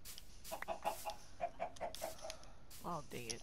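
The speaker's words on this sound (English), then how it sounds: "Why did you spawn the chicken wrong?" Minecraft chickens clucking in short, evenly spaced bursts, with a voice speaking at the end.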